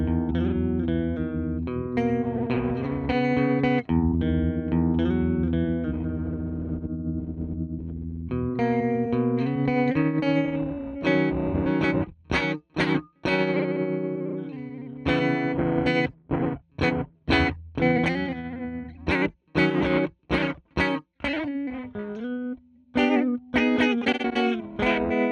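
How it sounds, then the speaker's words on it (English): Guitar run through a Chroma Console on its interference effect, giving a loud, continuous heavily processed tone that is repeatedly chopped by abrupt glitchy dropouts and bursts of radio-static-like crackle, with no voices. "interference, speaking of which, is inspired by network glitches, radio static, and things like that"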